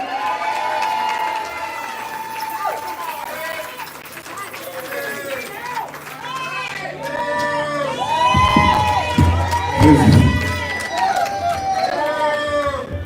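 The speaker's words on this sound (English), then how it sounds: "And I want you guys to give a big round of applause to Trustee ASD." An audience at a Dolton trustee campaign kickoff event cheers and claps, with shouting and crowd hubbub swelling midway, while a voice talks over the noise.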